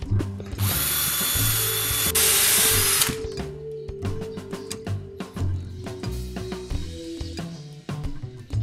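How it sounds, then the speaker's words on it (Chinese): Power drill with a countersink bit boring into wood, whining loudly for about three seconds, then quieter start-stop bursts of motor and clicking as the bit bites, close by with no talk. "钻一次给你看。"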